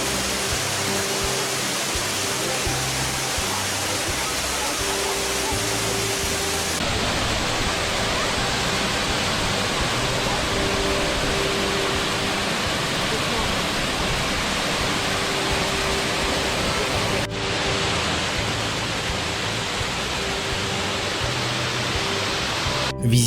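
The Cascades du Hérisson waterfall in autumn crashes onto rocks, a loud, steady, continuous roar of falling water that fills the whole scene without pause.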